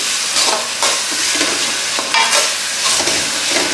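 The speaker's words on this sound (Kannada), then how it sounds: "ಸೊ ಇದೊಂದು ಸ್ವಲ್ಪ ಚೆನ್ನಾಗಿ ಫ್ರೈ ಆಗಬೇಕು" Food frying loudly in a pan for puri oggarane, a steady close sizzle broken by rhythmic stirring scrapes, with no voices.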